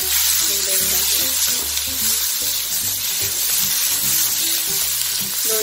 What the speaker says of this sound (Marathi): कांदा फ्राय झालेला आहे, त्यामध्ये आपल्याला आता टोमॅटो टाकून घ्यायचा आहे।